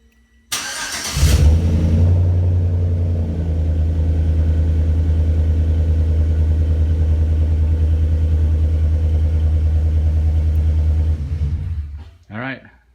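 A 2011 GMC Sierra with a Flowmaster catback dual exhaust starts up and holds a deep, loud, steady rumble close by for about ten seconds before shutting off, with a short burst of other noise at the end.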